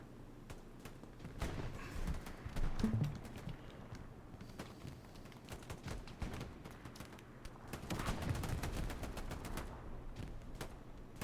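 Rapid gunfire from a World War-style video game, Axis troops firing on Allies, sounds as sharp scattered shots and quick bursts at low overall volume, clustering more densely toward the end.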